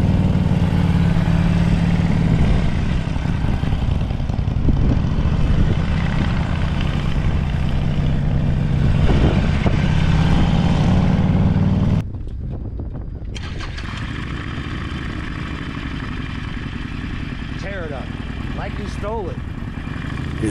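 A motorcycle rides slow turns through an intersection on clutch and throttle without rear brake, its mid-pitched engine droning close and steady, then quieter and more distant after a sudden cut midway.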